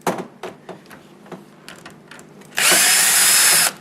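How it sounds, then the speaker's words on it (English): A power drill whirs steadily for about a second as it backs out the screws holding a door closer, preceded by light tapping and handling clicks nearby. "So I'm just going to unscrew here."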